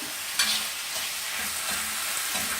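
Minced beef and onions fry in an open wok with a steady bright hiss, marked by occasional soft stirring scrapes, close and even.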